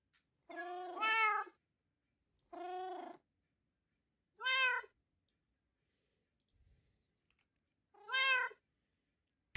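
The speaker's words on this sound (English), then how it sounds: "that's why the meows are so loud" Cats meowing in the Minecraft video game, four loud, clear meows spaced a couple of seconds apart with silence between, plus a faint low thump near the end.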